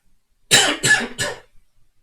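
Three quick coughs in a row, close and fairly loud, followed by silence.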